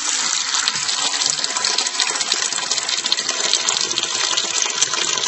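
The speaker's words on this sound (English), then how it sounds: "So I'm going to lift this valve up. You'll see it start to drain." Water rushes out of a toilet tank as the fill valve is lifted, a steady, loud broadband gush of draining water that runs continuously without pause.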